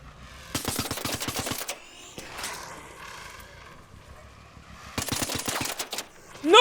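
Bursts of rapid automatic gunfire in the video game Arc Raiders, two dense volleys separated by a quieter stretch of ambient game noise, fairly close and loud.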